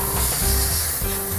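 Continuous hiss of an aerosol spray painting a 1/72 scale model aircraft, steady and close, with brief pauses in the spraying.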